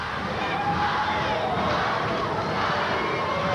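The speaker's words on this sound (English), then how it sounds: "the crowd starts that staccato chant, Wahoo, Wahoo" A wrestling arena crowd at a 1986 NWA event roars with a steady, loud chant and cheering that fills the space continuously.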